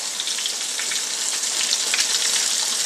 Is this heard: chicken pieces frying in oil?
yes